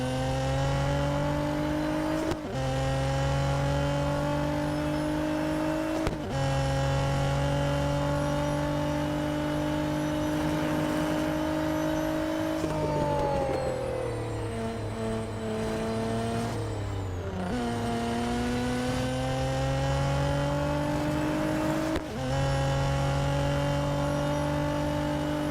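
Racing car in Real Racing 3 sounds a loud, continuous engine drone that rises through the gears, with sharp drops at each shift and a dip and recovery mid-way as it brakes and accelerates through corners, with no talk over it.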